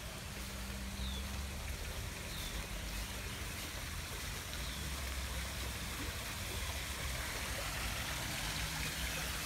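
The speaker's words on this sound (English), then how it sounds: "this water feature over here" Garden water feature on an off-grid homestead in central Portugal, trickling and splashing steadily and fairly close, a continuous wash of running water with no talk over it.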